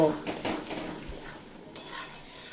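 Fried small potatoes being sautéed with spices in a pan for aloo dum, with a few close scraping stirs of a spoon against the pan over a soft sizzle, no voices.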